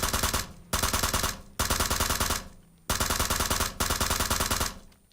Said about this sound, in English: sometimes what you're better off doing is burst firing